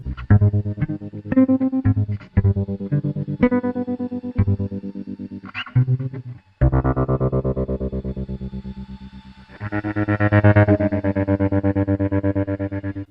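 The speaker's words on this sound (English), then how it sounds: "I especially like the echo it sometimes has, like in this part." Layered music track from the Fear and Hunger game soundtrack, with sustained, effects-heavy tones whose notes linger and repeat as echoes, loud and continuous with swelling bass.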